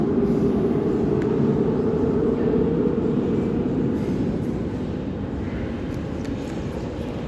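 A steady, loud low rumble of a Sofia Metro M3 train running along the track, a constant mechanical roar with no voices.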